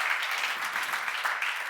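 A church congregation at a seminar claps together in a soft, even wash of many hands, somewhat distant and sustained, without any talking.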